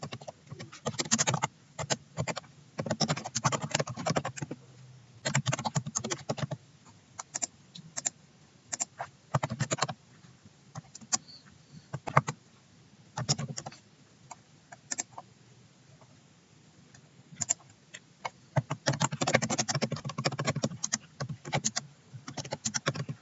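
Keys clack in bursts of rapid typing on a computer keyboard while data is entered into a medical records form, pausing between runs of keystrokes, fairly close and with no voices.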